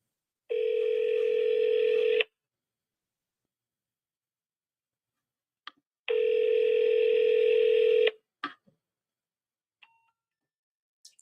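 Telephone ringback during a cold call to a cash buyer: two long steady rings about four seconds apart, clear and alone, followed by a few faint clicks.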